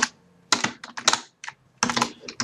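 Fingers tap out JavaScript code on a computer keyboard in quick, irregular bursts of crisp clicks separated by short pauses, close and clear with no voices.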